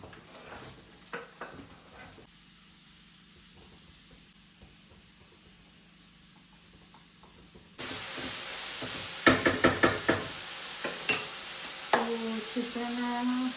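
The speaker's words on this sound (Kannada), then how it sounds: "ಚಿತ್ರಾನ್ನ ಫ್ರೈ ಆಗಬೇಕು, ಈರುಳ್ಳಿ ಚೆನ್ನಾಗಿ." Green chillies and onions frying in a pan for chitranna, a quiet low hiss at first, then a louder sizzle with several sharp clanks of a spoon against the pan, close by.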